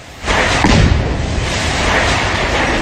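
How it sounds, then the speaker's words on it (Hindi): A house being blown up: a loud boom erupts after a brief quiet moment, followed by a sustained rumbling roar of debris and noise. "इस तरह घर को उड़ाने के बाद जोरदार धमाका हुआ"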